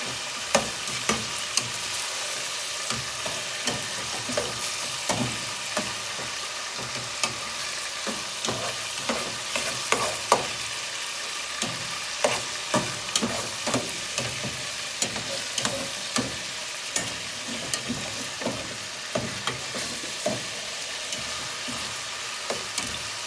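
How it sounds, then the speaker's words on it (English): Minced chicken fries in a pan over high heat, a continuous loud sizzle broken by regular clattering stirs and scrapes of a utensil against the pan, with no voices. "So I'll keep frying this"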